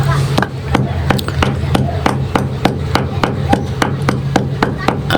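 A Bodrex tablet is crushed into powder with a rapid run of sharp, regular tapping and grinding knocks, close and loud over a steady low background hum.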